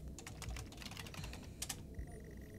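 Rapid keyboard typing from the video game Stories Untold, a steady patter of clicks under a faint tonal hum, with a few louder key strikes near the end.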